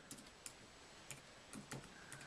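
Keystrokes on a Bluetooth keyboard, a handful of sharp, quiet taps in an uneven rhythm against a faint steady hum.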